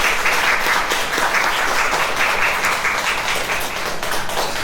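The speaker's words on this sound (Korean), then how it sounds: "수고해주신 우리 주례 목사님께 다시 한번 힘찬 박수 부탁드립니다." Wedding guests at a Gwanghwamun wedding hall give the officiating pastor a sustained, dense round of applause that holds steady and full throughout, with no talk over it.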